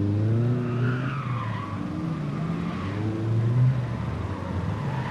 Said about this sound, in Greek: Τώρα θα μπει ένας από τους καλύτερους οδηγούς σε side show με S2000 χρώματος μπλε, ο Γιάννης Νίκας